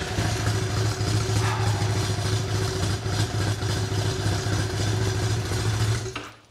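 Motorcycle engine idling steadily after a first-time start, a close, even mechanical drone with light clatter that cuts off abruptly at the end, no talk.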